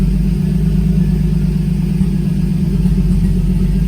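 A turbocharged M52 engine in a BMW E30 runs close by with a loud, steady low drone and a deep rumble, holding an even pitch throughout.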